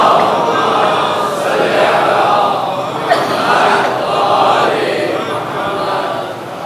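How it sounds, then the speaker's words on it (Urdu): A mosque congregation at a Muharram majlis chanting salawat together, a broad swelling wave of many voices rising and falling in unison, filling the hall at close range. "ایک صلوات پڑھیے محمد والے۔"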